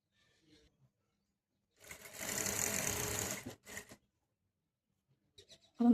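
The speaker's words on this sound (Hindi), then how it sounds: "अब हम इस साइड पे सिलाई लगाएंगे ऐसे ही ऊपर" A sewing machine runs in a short burst of a couple of seconds while stitching the side seam of a salwar, followed by a brief second whir and quiet handling noises.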